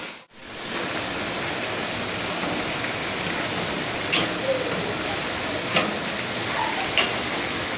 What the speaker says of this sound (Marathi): अक्षरशः किती स्पीडनी पाऊस पडतो मी तुम्हाला दाखवते